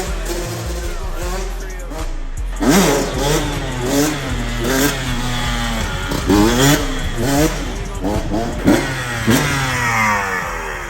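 A two-stroke dirt bike engine revving hard during wheelie practice, rising and falling in repeated throttle blips, loud and close with a rider's voice occasionally over it.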